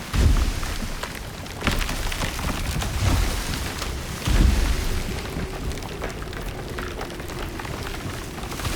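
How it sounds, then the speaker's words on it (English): Storm ambience in the Icarus survival game: steady heavy rain hiss with several deep thunder rumbles and booms rolling through at irregular intervals. "Storm is doing a lot of clearing for me."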